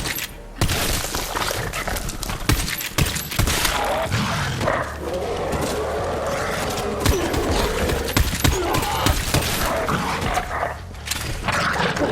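Rapid gunfire from Borderlands 3 crackles throughout, dense bursts of shots with sharp transient cracks over a busy game soundscape, fairly loud and continuous.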